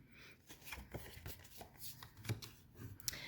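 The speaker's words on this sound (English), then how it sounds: "Let me run a bone folder on that." A bone folder is run along scored solid-color cardstock, producing soft, close rubbing and scraping strokes in quick uneven bursts, quiet and heard alone.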